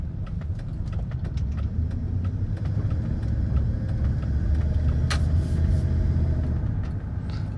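Steady low exhaust rumble from a truck replacing a Silverado, heard from inside the cab while driving, a continuous moderate drone with road noise and no talk.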